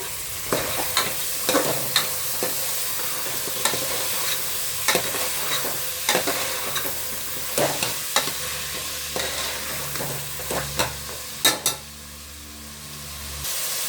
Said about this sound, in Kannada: ಅದು ಸ್ವಲ್ಪ ಫ್ರೈ ಮಾಡ್ಕೊಳ್ಳೋಣ ಆಯಿಲಲ್ಲಿ.